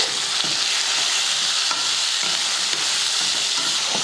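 Chopped onions and three small tomatoes sauté in a kadai with a steady, close sizzle and frying hiss, the sound continuous with soft stirring scrapes mixed in, no one talking.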